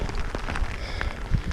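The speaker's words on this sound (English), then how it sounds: "it's starting to pour" Rain beginning to pour on a mountain hike: dense, steady patter of drops hitting nearby surfaces, close and continuous with scattered louder splats.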